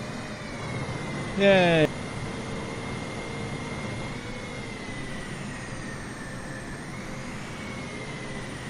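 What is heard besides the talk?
Boeing 737-800 jet engines throttling up, video game Microsoft Flight Simulator 2020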